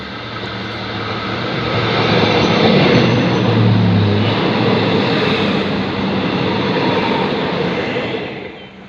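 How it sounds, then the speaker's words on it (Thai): A Thai special express train, No. 7, passes a station with a long, loud, continuous rumble and rolling wheel noise that swells and then slowly fades, with no talking. "หลังจากที่ด่วนพิเศษขบวนที่ 7 ผ่านไปนะครับ"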